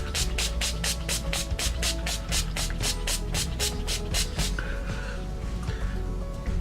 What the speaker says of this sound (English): use a little setting spray